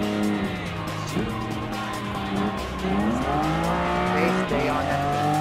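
Lamborghini race cars, including a 25th anniversary Countach and an Aventador, roar through a Gran Turismo Sport race, with steady engine drone, gear-shift pitch drops and tire squeal throughout.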